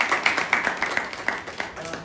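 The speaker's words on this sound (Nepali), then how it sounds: "उहाँलाई एकचोटि स्वागत गरौँ ताली बजाएर।" An audience in Birgunj, Nepal claps to welcome the city's mayor, a brisk run of hand claps at moderate distance, with talk heard over part of it.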